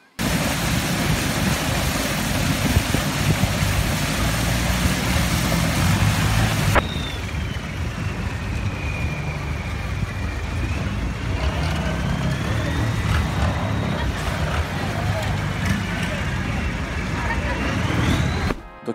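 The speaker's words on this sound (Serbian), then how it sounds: "Dok idemo čamcem ka pijaci" Motor boat ride through Bangkok toward the floating market, with a steady loud engine and water rush throughout, a sharp shift partway as the boat noise changes and a rising whine joins over the continuous drone.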